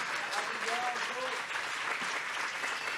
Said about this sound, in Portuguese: eu queria pedir um aplauso para ela, por favor